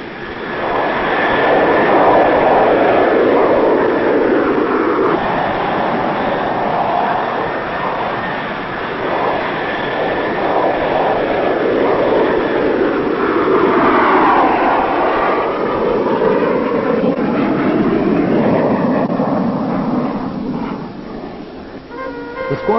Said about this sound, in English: the Phantom hurtles into the darkness at supersonic speeds.